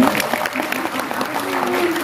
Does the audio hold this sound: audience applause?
yes